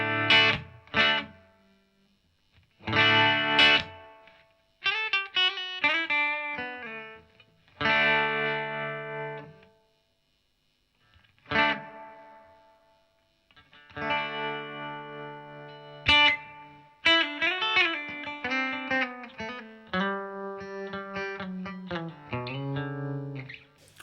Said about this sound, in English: we've got the global reverb. It's a digital reverb